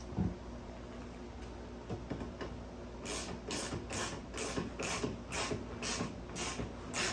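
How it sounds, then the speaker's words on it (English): Ratchet tightening nuts on the inner cabinet of a Vendo 39 Coke machine during restoration, a rapid series of sharp clicking strokes in regular bursts, close and clear after a quiet start. "We'll get a ratchet here and tighten these down."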